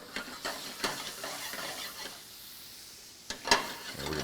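Butter and olive oil sizzle softly in a pan, a low steady frying hiss with a few stirring scrapes and clinks, faint and close, with no talking.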